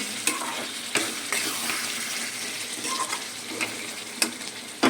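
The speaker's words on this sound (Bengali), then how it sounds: "এবার আমি খুন্তি দিয়ে একটু নাড়ছি" A spatula stirs frying food in a pan with capsicum and potatoes, scraping strokes and occasional knocks over a steady, close sizzle.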